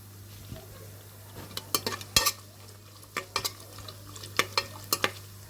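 Cashews and raisins fry in a pan while a spoon stirs them, giving a sequence of sharp metallic clinks and scrapes over a faint, steady sizzle.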